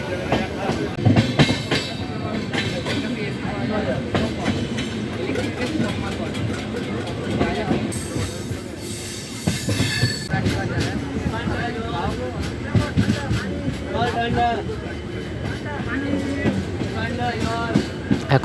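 The Howrah–Radhikapur Kulik Express rolls along the tracks with a continuous rumbling, rattling roar and rhythmic clatter of wheels, with people talking over the train noise throughout.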